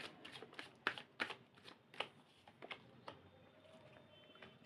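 Tarot cards are shuffled and drawn by hand, a run of soft riffling flicks and sharp card snaps in an irregular rhythm, close and quiet with no talking.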